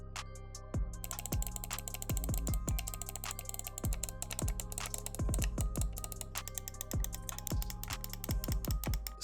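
Button clicks on a BenQ Zowie ZA12-B gaming mouse, sharp close clicks coming singly and in quick bursts of several, crisp and dry against a quiet background.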